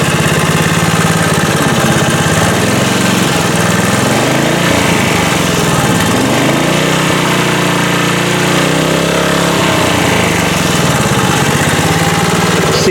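Honda HR21 lawn mower engine running steadily, loud and close, its pitch rising and falling as it surges at higher speed, with no voices.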